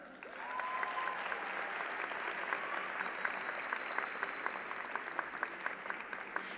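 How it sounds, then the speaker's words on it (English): Applause rises from the audience at a university commencement as a Master of Science in Bioinformatics graduate crosses the stage, a soft, distant wash of clapping with a few crisp nearer claps standing out toward the end. "Huge round of applause for Stephanie"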